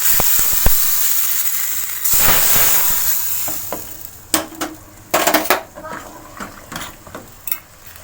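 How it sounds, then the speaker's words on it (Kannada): Hot mustard-seed and curry-leaf tempering meets a pot of moong dal, a brief sizzling rush followed by spoon scrapes and clinks against the pot, close by, with no one talking. "ಇದಕ್ಕೆ ಒಗ್ಗರಣೆ ಹಾಕ್ತೇನೆ."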